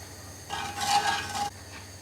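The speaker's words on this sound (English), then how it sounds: "we're just going to fry that gently in the oil" Spices frying gently in oil for a restaurant-style chicken balti, a soft close sizzle and scraping stir that lasts about a second before stopping.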